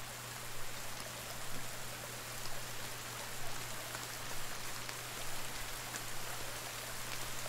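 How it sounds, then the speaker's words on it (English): Steady rain patters and hisses in the survival game The Forest, an even wash of drops with a low constant hum underneath and no talking. "Oh no, that's rain."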